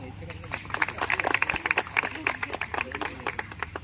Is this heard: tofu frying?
no